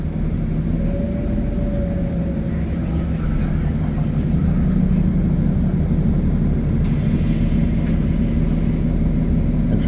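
Halifax Transit bus slowing to a stop in downtown Halifax, heard from aboard: a steady low engine and drivetrain rumble with a faint whine, holding loud and continuous before a brief hiss near the end.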